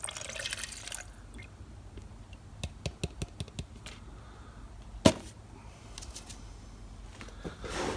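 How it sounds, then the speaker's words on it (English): Mica powder mixture poured into clear coat for a Rust-Oleum paint job: faint liquid drips and a quick run of light clicks, then one sharp tap midway, with no talking. "So we're gonna go ahead and pour this into the clear."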